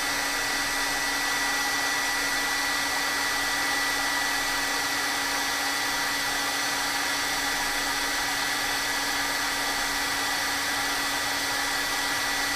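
Hair dryer blowing on a mixed media art journal page: a constant, loud whirring hiss with a steady motor hum, unbroken for the whole stretch and with no talking.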